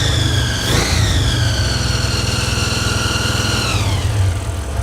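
A blown, supercharged Jaguar rat rod engine idles high with a steady, loud throbbing rumble and a whining tone that rises briefly, then eases down near the end.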